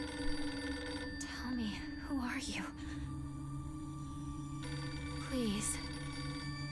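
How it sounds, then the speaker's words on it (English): A telephone rings in quiet, repeated bursts of trilling tone, set among sweeping electronic chimes and steady hums in a soft, low-level soundscape. "Is this a classic phone sound?"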